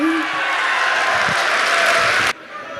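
Dense audience applause at a Hindi poetry recital, loud and sustained for a couple of seconds before cutting off abruptly to quieter room noise.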